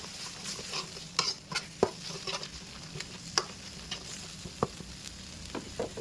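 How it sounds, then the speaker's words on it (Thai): Curry paste and coconut milk are stirred and fried in a pan, giving a close, steady sizzle broken by irregular scraping taps of the spatula. "ผัดให้กะทิของเราแตกมันเลยครับ"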